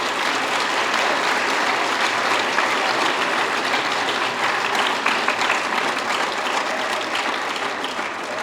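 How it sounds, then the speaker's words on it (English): A large crowd applauds at a high school National Honor Society induction ceremony, a dense, sustained wash of clapping that holds at steady volume throughout. "let's give a round of applause for Mr. Priest"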